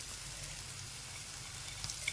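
Green chili and garlic fry in a pan with a soft, steady sizzle, faint and continuous, with a couple of small pops near the end.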